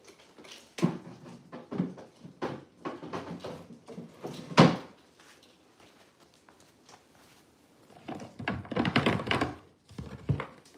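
Drawers being pulled out and shifted while furniture is moved indoors, giving a series of close wooden thunks and knocks, one sharp bang near the middle, then a busier cluster of clatter and scraping toward the end.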